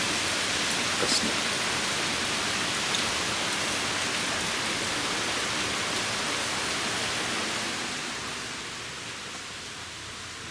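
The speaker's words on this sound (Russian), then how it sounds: "Сегодня идет дождь" Rain falling in a steady, even hiss that fills the whole clip, easing slightly toward the end, with a brief voice speaking over it.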